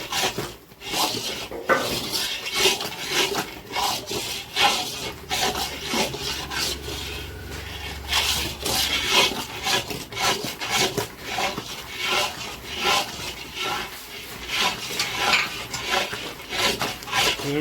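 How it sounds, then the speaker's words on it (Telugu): Thick Mysore pak mixture being stirred steadily in a pan as hot oil is poured in, a continuous close scraping and rubbing with rhythmic strokes and occasional clinks of the utensil against the pan. "ఆయిల్ పోసుకుంటుంటే మీకు ఈజీగా కలుపుతూనే ఉండాలి"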